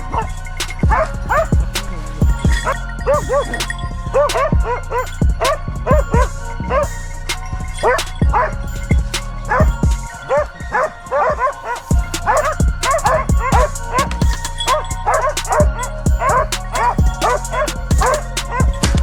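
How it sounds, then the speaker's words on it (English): Large muscular Turkish hunting dogs such as Kangal or Akbaş bark loudly and continuously during a wild boar hunt, a dense overlapping chorus of barks and yips without pause. "large, muscular Turkish dogs, like the Kangal or Akbaş, trained from puppyhood to track, corner, and subdue wild boars."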